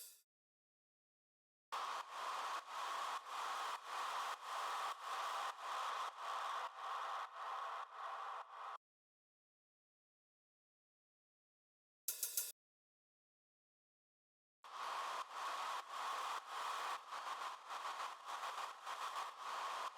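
Harsh, heavily distorted crash cymbal hits, made from a Kashmir crash sample in FL Studio, repeat in a steady rhythm, broken by silences and a brief burst, loud and gritty.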